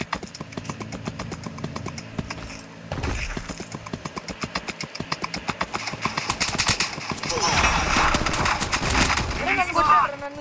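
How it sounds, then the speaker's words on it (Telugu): Horse hooves clip-clop in a fast, regular rhythm in the Free Fire video game, loud and close, with gunfire and engine noise around them and a player talking over them. "నేను గుర్రం వేసుకొని పోతున్నా."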